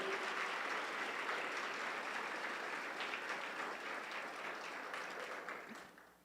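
A church congregation claps loudly and continuously at a Baptist missionary service, dense sustained applause that stays strong throughout and fades slightly at the end.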